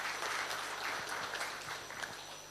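Applause at the inauguration ceremony of an apparel training center, a crowd clapping steadily at moderate distance for a few seconds and fading slightly toward the end.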